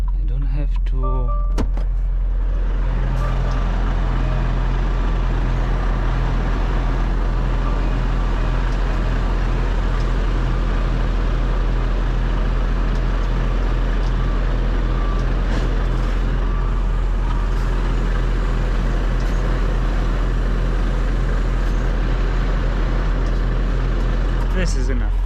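A truck reversing onto a trailer ramp, with a loud steady engine drone and low hum running the whole time, a few clunks at the start, and someone talking over it.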